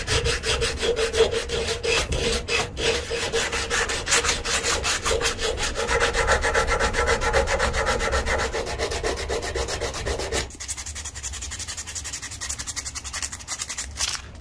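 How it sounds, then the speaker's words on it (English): Heavy sandpaper worked back and forth over a wooden knife handle, a steady close raspy scrubbing in quick strokes that carries on for about ten seconds before easing into lighter, quieter rubbing. "Now I'm going to start with some heavy sandpaper"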